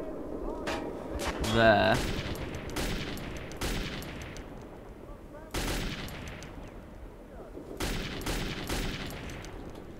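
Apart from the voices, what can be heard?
gunfire in video game Metro 2033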